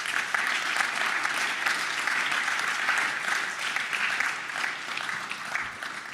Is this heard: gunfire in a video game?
no